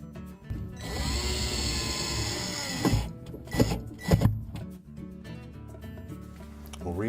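A power screwdriver drives screws into a General Electric refrigerator evaporator fan cover, whirring in short close bursts with mechanical clicks, while a person talks quietly.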